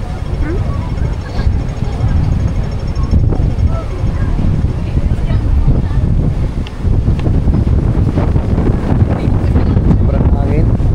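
Strong wind buffets the microphone on Victoria Harbour in Central, Hong Kong, a loud, steady roar and rumble throughout, with a voice speaking over it.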